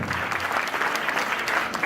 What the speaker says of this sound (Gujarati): જોરદાર તાળીઓ પાડીને વધાવીશું